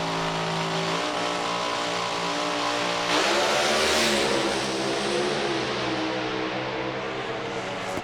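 A Pro Alcohol drag racing car at East Coast Thunder in Sydney roars loudly and continuously down the track on a pass, its engine note swelling midway and holding at a sustained high pitch.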